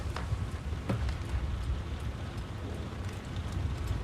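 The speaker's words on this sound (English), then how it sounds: "It's pouring with rain." Heavy rain pours down in a steady, dense patter at night, a continuous hiss with occasional louder drops, moderately loud and without any voices.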